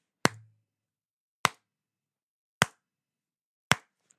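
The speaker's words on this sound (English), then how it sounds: "she at least deserves one of those kind of condescending claps" Four slow, evenly spaced claps, roughly one every second and a bit, each a sharp isolated smack with silence between, mocking and deliberate.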